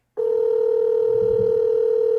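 A single steady electronic telephone tone sounds continuously for about two seconds, clear and moderately loud, with no speech.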